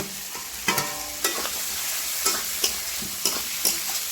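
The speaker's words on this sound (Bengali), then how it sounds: "এবারে আমি ভেজে রাখা মুলোগুলো দিয়ে একটু নাড়াচাড়া করে নেব" Fried radish stirred into a reddened fried spice paste sizzles steadily in a pan, with a handful of sharp spoon scrapes and knocks spaced about every half second to second, close and clear, no voices.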